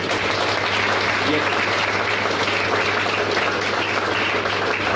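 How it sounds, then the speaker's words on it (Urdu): A church congregation at a sermon applauds loudly, a dense, sustained wash of clapping with a steady low hum underneath and no pause. "ایک دفعہ ذرا زوردار تالیاں بجائیں."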